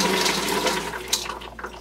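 Running water rushes over tumbled rocks and ceramic media during rinsing, a loud, close gush with splashing that fades slightly toward the end.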